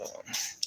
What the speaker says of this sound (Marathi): आमचे डॉगी पहा जुली